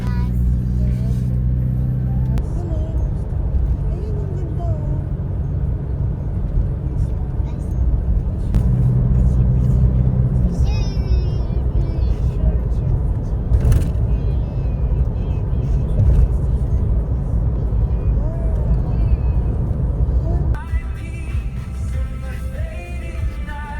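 A convoy of overlanding rigs cruises a smooth, traffic-free highway (SCTEX toward Subic, Zambales) with a steady close engine and road rumble throughout, while people talk over it inside the vehicle.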